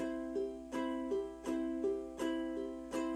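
Ukulele played with a paintbrush strum, the thumb hitting the top string and the fingers brushing the rest, giving a steady, even pattern of bright chord strokes that ring clearly on their own.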